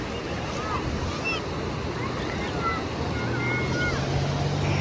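Sea waves surge at high tide, giving a steady, loud wash of surf mixed with wind buffeting the microphone, with faint voices and a low engine-like drone in the background.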